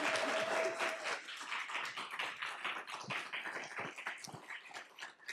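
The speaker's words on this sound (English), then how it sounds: "Let's give her a round of applause." Audience at a school board meeting applauds, a dense run of scattered hand claps lasting several seconds, moderately distant and steadily fading a little toward the end.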